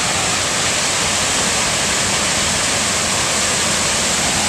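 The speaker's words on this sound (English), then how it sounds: "Highlands Waterfalls" A waterfall near Highlands, North Carolina roars steadily, a loud, unbroken rush of falling water with no pauses.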